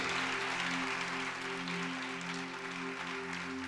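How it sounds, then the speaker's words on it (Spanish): Church congregation applauding together after a prayer, a steady wash of clapping from many hands, with strong sustained tones from music or an organ running underneath. "Den un aplauso al Rey de Reyes."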